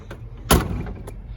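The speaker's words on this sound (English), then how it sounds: "Doors shut real good." A single solid thud of a 1968 Ford Mustang Fastback Cobra Jet drag car door shutting, close and clean, with a brief rattle trailing after.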